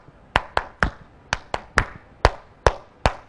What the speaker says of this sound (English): in Zeal we have this clap. It goes this way.